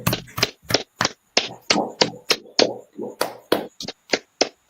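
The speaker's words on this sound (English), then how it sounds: "All right, clap it up." Hands clapping in sharp, close, separate claps, about a dozen loud slaps in an uneven rhythm with short gaps between them.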